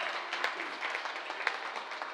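An audience claps during a Marathi kirtan devotional gathering, a steady dense patter of many hands at moderate distance, continuous throughout with no talk over it.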